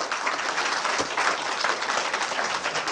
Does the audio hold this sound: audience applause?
yes